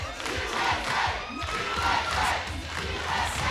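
A large wrestling crowd at an OVW cage match roars, cheers and shouts in a steady dense wall of noise, loud and continuous throughout without any clear speech.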